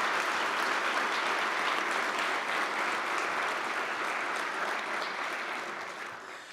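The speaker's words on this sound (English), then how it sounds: "Let's give them another round of applause." A room full of people applauds at a 2021 Lakewood Police Department awards ceremony, a thick wash of clapping that stays steady, then slowly fades toward the end.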